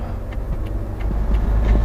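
A car pulls away from a standstill as the clutch is eased out slowly and gas is added, a steady mid-level engine drone rising slightly in loudness toward the end, no talk.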